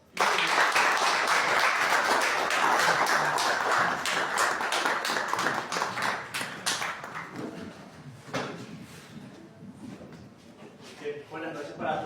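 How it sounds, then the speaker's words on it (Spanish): An audience at a children's magic school show claps loudly and steadily in a dense crowd patter that slowly thins after about six seconds into scattered claps, with voices mixed in. "Fuerte el aplauso."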